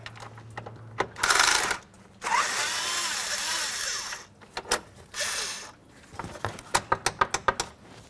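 Fan shroud bolts on a 2004–2015 Nissan Titan loosened with a power tool: several short bursts of whirring, then a rapid run of sharp ratchet clicks, close and alone.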